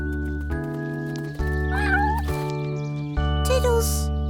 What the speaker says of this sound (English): out trotted 3 tiny little black and white kittens who looked just like Buster.